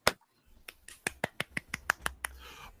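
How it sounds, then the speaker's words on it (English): A few sparse, polite claps sound one after another, sharp isolated smacks in an irregular rhythm, close and fairly quiet, with a faint murmur of voices underneath. "Everyone, a polite golf clap,"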